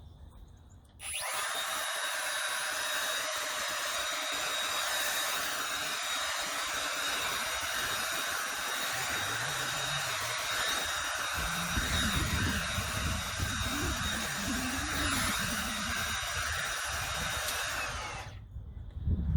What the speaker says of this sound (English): So it blows the dry leaves off pretty well, but you have to get pretty close to get any of the wet leaves out of the area.